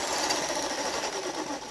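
An electric drill rigged as a string trimmer runs in a continuous high-pitched motor whine with a rough buzzing edge, steady and close for the whole stretch.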